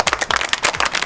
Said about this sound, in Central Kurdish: یەک چەپڵە بۆ سروش.